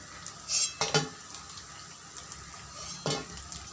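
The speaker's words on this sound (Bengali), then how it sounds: "আমার এগুলো অনেকটা ভাজা হয়ে এসেছে আমি আর একটু ভেজে তুলে নেবো" Mourala fish pakoras fry in a pan of oil with a soft, steady sizzle, broken by a few brief stirring scrapes and utensil clinks. The sound stays fairly quiet and close, with no talking.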